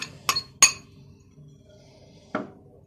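A spoon knocks against a mortar while garlic is readied for crushing, three sharp ringing clinks in quick succession, then a pause and a final clink, close and fairly loud in a quiet kitchen.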